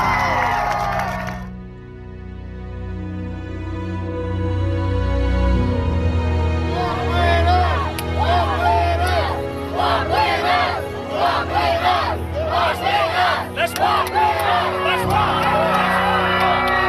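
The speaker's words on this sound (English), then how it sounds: "You could hear the cheers erupting in the crowd." A crowd cheers in Times Square as a police officer and a demonstrator hug, a loud sustained roar of shouts and whoops over a low rumble, with talking mixed in.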